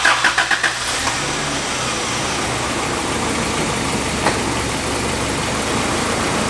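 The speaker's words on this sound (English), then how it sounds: "Just started the vehicle. You're gonna let it idle up to temp." Engine of a 1988 Isuzu Trooper cranking and catching with a few quick starter pulses, then settling into a steady, loud, even idle that runs on alone.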